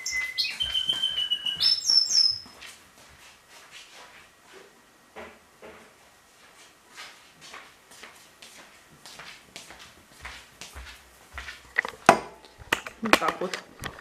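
Pet nightingale at home chirping and trilling in quick high bursts early on, then fainter scattered tweets among clicks and handling knocks, with someone talking close over it.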